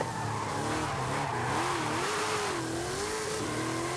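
A car drifts sideways in Forza Horizon 5 with traction control off, the engine droning and revving while the tyres squeal steadily and loudly throughout, with no voice over it.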